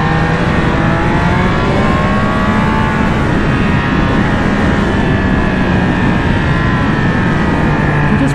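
A Triumph Speed Triple 1200 RS motorcycle engine held at high RPM while riding, a loud, continuous roaring whine with a slowly shifting pitch under heavy wind rush.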